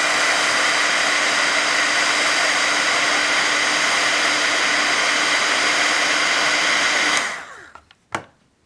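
A heat tool heat-sets ink on a painted bow, blowing a steady, loud, hissing roar for about seven seconds before cutting off, followed by a couple of faint clicks.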